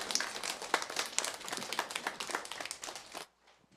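Applause from an indoor audience at a Korean church worship gathering greets a guest speaker. Dense clapping runs steadily for about three seconds, then cuts off abruptly into near silence.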